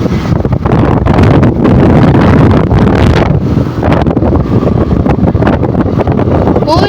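Strong, steady wind buffets the microphone beside the Mayurakshi river embankment on a sunny day, a loud continuous roar with gusts and no clear pauses.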